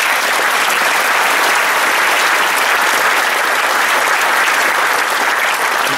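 Sustained applause from a seated audience at a bird conservation society gathering, dense and loud, with many hands clapping evenly for the full duration and no break.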